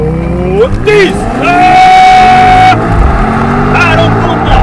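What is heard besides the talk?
BMW XM 4.4 V8 plug-in hybrid launching hard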